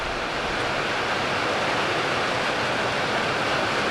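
Heavy rain pouring down outdoors, a dense, steady hiss of water that stays even and loud throughout, with no voices over it.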